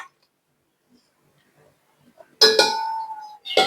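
Masala-coated mutton goes into a steel pressure cooker for a Kerala pepper mutton roast: after near silence come two short bursts of close metallic clanks and clinks with a ringing tone.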